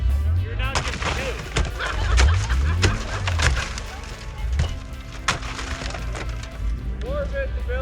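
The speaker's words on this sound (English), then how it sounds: "Oh, they broke the back window." In a racing video game, a car's back window shatters with sharp cracks and crunching glass bursts over a low engine drone, while a voice talks through it.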